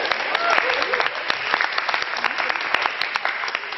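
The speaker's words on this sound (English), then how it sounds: "A very big round of applause for the top 8 winners." A crowd at a science quiz show claps steadily throughout, dense scattered handclaps at moderate loudness, with some voices mixed in underneath.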